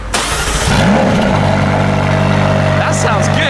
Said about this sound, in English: That sounds good. Sport exhaust for sure.